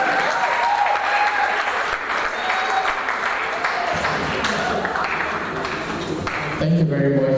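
A seminar audience applauds a speaker's introduction with loud, continuous clapping and some crowd murmur, thinning toward the end as a voice begins speaking over it.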